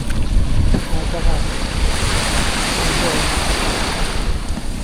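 Waves wash and churn close by, with strong wind buffeting the microphone in a continuous roar.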